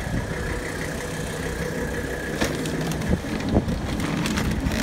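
A car engine idles with the air conditioning running after an AC compressor replacement, a steady loud mid-pitched drone with wind buffeting the microphone and a few light clicks.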